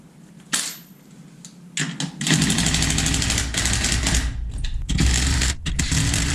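A car's wheel lug nuts are tightened with a power tool, which gives several loud rattling bursts of varying length separated by short pauses, close up and with no talk.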